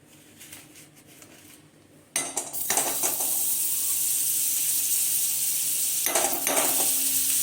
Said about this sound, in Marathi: इथे आपली कढई गरम झाली आहे, ह्याच्यात आपण बटर टाकून घेऊया।